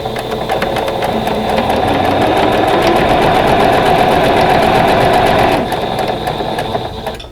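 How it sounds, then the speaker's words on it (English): A sewing machine stitches a quilt block along a drawn line, running as one loud, steady, rapid mechanical whir. It is close up and continuous for several seconds, then slows and fades near the end. "I need to stitch right on that line or just to the side of it"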